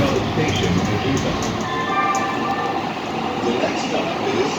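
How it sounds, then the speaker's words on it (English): An LA Metro A Line train rides along the rails, with a steady rumbling roll and faint clickety-clack heard from inside the car, under a continuous public-address announcement voice. "Welcome aboard the Metro A line."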